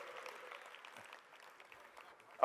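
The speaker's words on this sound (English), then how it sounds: "Round of applause for Lauren Prager." Audience applause at a summit, a thin, fairly faint patter of clapping running steadily before a loud burst of sound at the very end.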